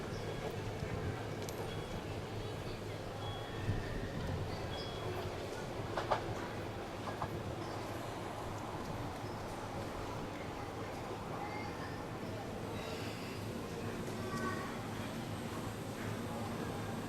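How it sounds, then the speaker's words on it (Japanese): A train runs through a Tokyo-area commuter rail station during special service for the Sumida River fireworks festival, a steady rumble of wheels and rail noise filling the whole stretch, with faint clatter and brief station sounds on top. "電車が通過いたします。"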